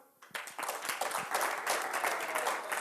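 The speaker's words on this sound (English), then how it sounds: "Clap, vote for the negative." An audience at a speed debate breaks into applause to vote for the negative, a dense wash of clapping that builds after a brief pause and holds at a fairly quiet, even level.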